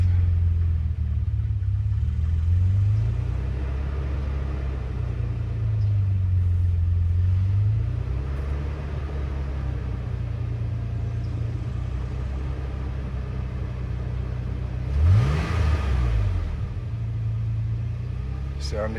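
A Toyota FJ Cruiser engine runs rough on diesel fuel in its gas tank, giving a close, uneven low rumble with wavering idle and a brief rev near the end, while a person talks over it.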